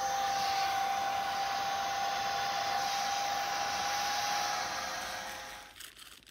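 A fuel pump on a homemade turbo oven drones with a steady, loud whine and rushing hiss, then fades away near the end.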